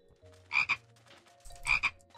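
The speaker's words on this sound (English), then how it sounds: "The scorpions make frog noises in this world" Scorpion mob in Minecraft Crazycraft making frog-like croaks, two separate raspy croaks about a second apart, fairly close over a quiet hum.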